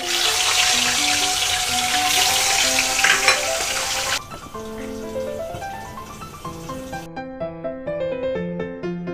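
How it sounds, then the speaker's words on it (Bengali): Loud, crackling sizzle of pangas fish frying in hot oil for a few seconds, then it cuts away to music. "বাকি দুটো আমি আস্তে আস্তে তেলে ছেড়ে দেবো"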